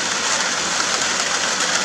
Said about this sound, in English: The rain is finally here, guys. Look at that rain.